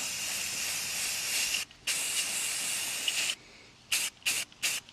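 Spray paint hissing from an aerosol can while coating the battery area of a 1949 Dodge Wayfarer, a long steady burst followed by a brief pause, another long spray, then three short quick bursts, close by with no talking.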